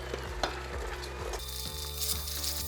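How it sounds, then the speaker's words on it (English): A hand mixer beats eggs into butter and sugar for fruitcake batter in a bowl, giving a continuous whirring, scraping texture with a slight shift in pitch midway. "So now I'm going to add in the eggs one at a time, combining it fully after each egg."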